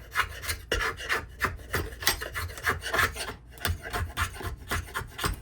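A rasp files down a wooden axe handle in rhythmic back-and-forth strokes, close and scratchy, about two strokes per second with one short pause midway.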